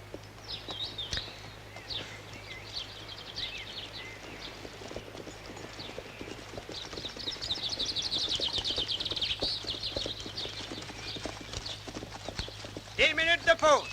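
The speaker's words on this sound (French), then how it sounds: "Nous allons faire halte pour reposer les chevaux." Horses' hooves clip-clop steadily on a road in a 1968 period film scene, continuous and fairly close, with voices speaking over them before a whinny and scattered sounds near the end.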